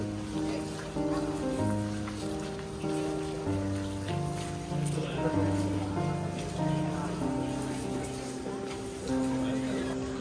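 Steady rain falls through the forest near Meiji Shrine, an even hiss of drops on leaves and ground that carries on throughout under sustained melodic music.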